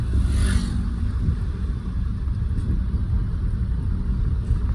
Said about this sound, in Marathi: गाडी बघा रिवर्स लावून दिली आपल्याला